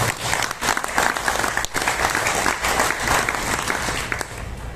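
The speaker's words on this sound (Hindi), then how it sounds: "तो आप लोगों के लिए जोरदार तालियां।" An audience at a talk gives a sustained round of loud applause, dense clapping that carries on evenly for several seconds.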